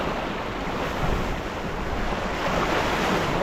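Steady wind rushes across the microphone while waves wash around a sailing dinghy at Liverpool Yacht Club, a dense, constant roar with no voices.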